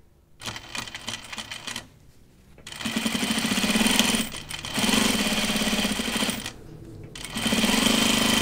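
A sewing machine stitches a Portside Dopp kit in three close, rapid mechanical runs of chattering stitches, each separated by a brief pause.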